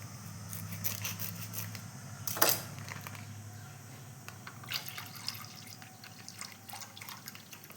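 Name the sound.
milk being poured into pot for payasam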